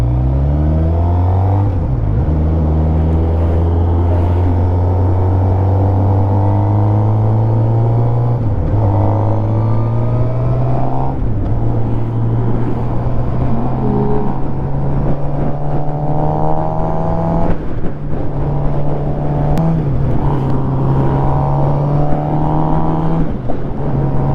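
A Suzuki GSXR600 sport motorcycle on new tyres hums and drones steadily while riding, with gear shifts and rising and falling revs, loud and close throughout.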